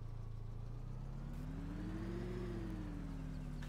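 Engine of a BMW car in Farming Simulator 17 revving up as it accelerates, a steady low drone whose pitch rises and then eases, loud and close with no talk.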